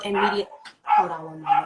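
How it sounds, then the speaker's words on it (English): A dog barks three times in quick succession, fairly close and loud, with someone talking over and between the barks. "I apologize if you guys can hear a dog barking."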